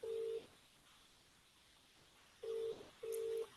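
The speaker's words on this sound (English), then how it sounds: "So as the phone is ringing, automatically it will mute the Zoom." A phone rings during a Zoom meeting, sounding as three short electronic tone bursts, the first separated from the last two by a long, quiet gap, with no talking over it.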